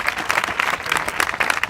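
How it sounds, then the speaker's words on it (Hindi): Classroom audience applauding a student during a school session, a short burst of dense, steady clapping from a group close by. "ताली बजाओ कृष्णा के लिए"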